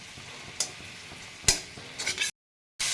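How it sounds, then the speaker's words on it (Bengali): A cumin and coriander spice paste with onion and garlic is fried and stirred in a pan. A continuous soft sizzle is broken by sharp scraping stirs, close and alone, and cut off by a short silence near the end. "এবার মশলাটা আমি ভালো করে কষিয়ে নেব।"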